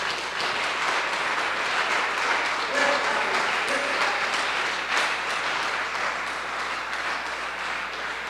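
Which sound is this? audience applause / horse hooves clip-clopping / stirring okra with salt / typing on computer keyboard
audience applause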